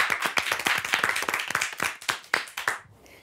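A studio audience claps at the close of a TV makeover show, a brisk run of dense, close handclaps lasting about three seconds before cutting off abruptly.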